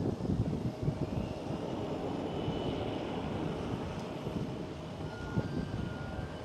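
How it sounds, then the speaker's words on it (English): KLM Cityhopper Embraer E175 regional jet passing near Amsterdam Schiphol airport: a continuous, fairly distant broadband jet roar with low rumble, steady throughout without any talk. "There goes KLM Cityhopper E175."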